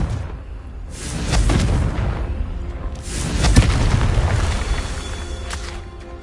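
Confringo explosion spells going off in the Hogwarts Legacy video game: deep booming blasts, two main bursts with rumbling tails, loud and close, with no talking.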